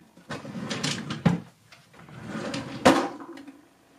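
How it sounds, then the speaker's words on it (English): A makeup drawer slides open and shut in two separate bursts, each ending in a sharp knock, close and clear with no talk. "Let's try another drawer, maybe."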